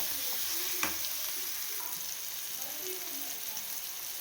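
Drumstick leaves are added to fried onions in a pan for egg burji, bringing a steady, close sizzle with a single sharp tap near the start and light stirring over it.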